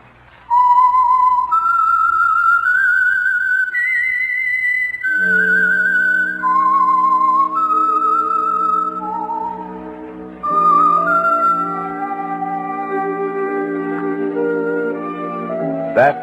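A clear, loud whistled melody of rising and falling notes, joined midway by a sustained orchestral chord underneath, no voices.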